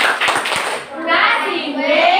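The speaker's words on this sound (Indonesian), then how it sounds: "tepuk wow dulu untuk kelompoknya Chelsea." A classroom of children doing the 'tepuk wow' clapping chant for a student group, with a burst of hand claps up front followed by loud overlapping young voices chanting together.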